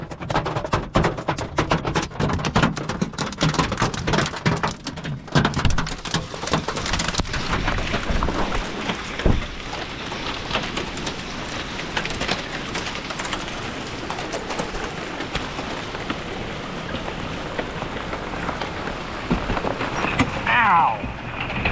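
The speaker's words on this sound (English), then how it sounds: "We're actually setting up, and we're in a hailstorm, so that's fun." Dense, continuous pattering of hail drumming on an RV roof, loud and steady throughout, with a voice briefly audible over it.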